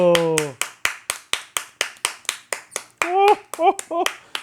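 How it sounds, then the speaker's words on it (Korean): Children at a Christmas party clapping for a visiting Santa, a steady run of about fifteen sharp, close claps in even rhythm, with a voice rising over the start and again near the end. "박수!"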